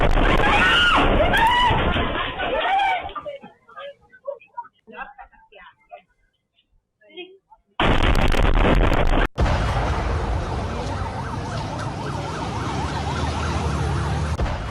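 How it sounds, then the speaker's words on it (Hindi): A truck blows up on a street in Tel Aviv: a sudden loud blast ends a quiet stretch, followed by a dense roar and sustained commotion, with a voice talking and a siren wailing earlier in the clip. "किस तरह से ट्रक में यह धमाका होता है, जबरदस्त धमाका"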